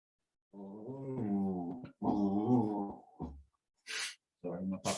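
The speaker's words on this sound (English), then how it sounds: "my puppy's making some weird puppy noises" A puppy makes odd whining, groaning vocal noises, drawn-out and whimpering with a few short yips. The sounds are close and fairly loud, with pauses between them.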